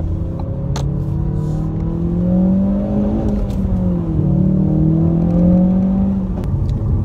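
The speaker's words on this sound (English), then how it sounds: "So the car does pull pretty good." A Ford Focus RS engine pulls hard under acceleration, a loud, close, steady drone with rising and falling rev tones through the gears and no talking.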